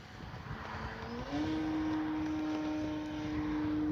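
A Hangar 9 J-3 radio-controlled model airplane's 10cc engine drones overhead with a steady buzzing whine that rises in pitch and holds, heard from a distance outdoors.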